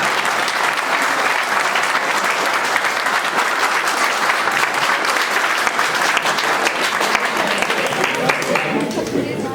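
Loud, sustained applause from a large crowd at a Hindi comedy poetry gathering, dense and continuous throughout with no pauses.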